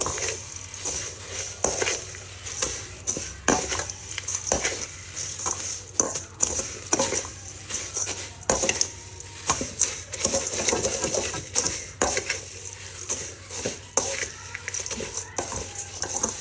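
A poha snack mixture tossed and mixed by hand in a bowl, with close, irregular rustling and gritty scraping strokes that repeat over a faint background, no talk.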